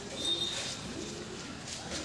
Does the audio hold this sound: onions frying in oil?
no